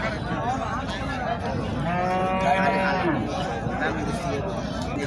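A bull calf moos once in a drawn-out, wavering call, close by, amid people talking in the background at a cattle market.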